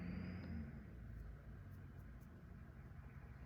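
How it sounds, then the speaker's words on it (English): A low, steady rumble of a diesel truck engine idling outside, muffled and distant, with no voices. "You can hear a diesel truck outside."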